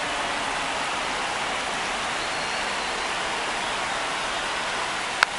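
Steady rain pours down on a ballpark during a baseball game between the New York Yankees and Baltimore Orioles, a dense even hiss with no talk, a single sharp tick near the end.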